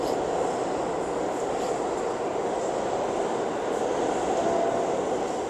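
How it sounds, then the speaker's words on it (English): A train rumbles steadily through Upper Manhattan, New York, a continuous close rolling roar with a faint rhythmic clatter and no voices. "that's what a train looks like"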